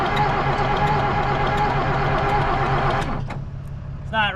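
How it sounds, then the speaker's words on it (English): A broken Volvo haul truck engine cranks over unevenly, a loud, close, chugging drone that cuts off about three-quarters of the way through, followed by a brief voice. "Not getting any smoke, but it has an irregular crank over."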